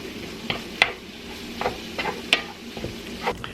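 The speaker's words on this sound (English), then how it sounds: "So I'm going to let the meat continue to cook, the beans continue to heat up." Taco meat and beans with a little added water cook in a pan, giving a steady low sizzle broken by several sharp clacks of a utensil stirring and scraping, close and alone.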